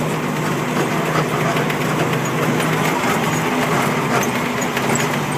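A Deuce military truck engine runs steadily while crossing a bumpy backyard, a loud continuous rumbling drone close by with rattling texture and no breaks.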